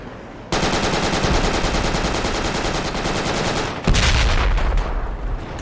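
Sustained automatic machine-gun fire in the tactical military shooter Project Reality, a loud rapid stream of shots running almost the whole time, with a brief break before a second, even louder burst.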